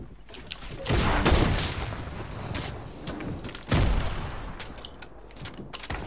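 Assault rifle fire in a video game shooter, loud bursts of rapid shots that swell in two heavy volleys with scattered shots and mechanical clatter between them, no talking.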